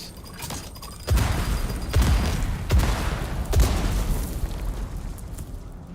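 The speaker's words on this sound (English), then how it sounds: "A lot of explosions." Several deep booming explosions burst one after another over a rumbling background, loud and close, with no talking.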